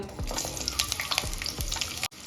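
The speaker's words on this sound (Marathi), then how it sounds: "यामध्ये एक ते दीड चम्मच ऑइल टाकायचं इथे जास्त ऑइलची गरज नाही आपल्याला आता या स्टेजला रफली चॉप केलेला कांदा ॲड करून घेऊया" Chopped onion fries in a little oil in a kadhai, giving a soft, close crackle broken by several scraping stirs and a brief dropout near the end.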